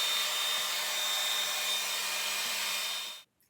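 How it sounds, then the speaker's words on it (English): A hair dryer blows with a steady, close whirring roar for about three seconds, then switches off into silence. "get your hair dryer and just warm them up a bit"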